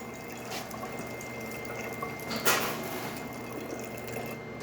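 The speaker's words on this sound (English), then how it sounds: "Now we're going to be testing the hot water. And as you can see, it's a nice steady stream coming out of this one." A Saeco automatic coffee machine dispenses a steady stream of hot water, making a faint, even hiss and trickle with one brief splashy burst midway, and no talking.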